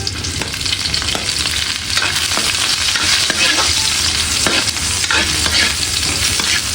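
Garlic and ginger frying in hot oil in a pan, a loud steady sizzle with the clatter of stirring running through it, close and continuous, with no talking.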